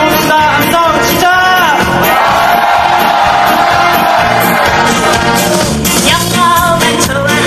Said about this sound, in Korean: 다같이 취지 없는 함성 한번 질러봅시다